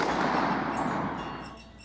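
A Colt Lawman .357 revolver fired double action at an outdoor range gives a booming report with a long, broad rumbling decay that fades over under two seconds.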